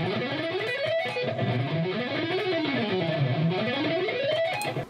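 Fast minor pentatonic run on a distorted electric guitar, economy picked at speed, the notes sweeping up and down the scale in a continuous, even, loud stream with no talking.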